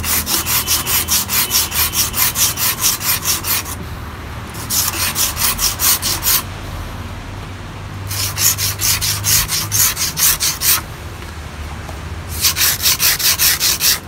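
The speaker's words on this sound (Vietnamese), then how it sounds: "Các bạn sử dụng cái lưỡi cưa sắt mình cạo." Rapid rhythmic scraping strokes, close and steady, in bursts of several seconds separated by short pauses, as a hacksaw blade scrapes back and forth over the rim of a basin.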